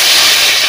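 Eggplant pieces frying in hot oil during a Bengali mixed-vegetable and spinach dish, giving a loud, steady hiss of sizzling with no pauses or talk.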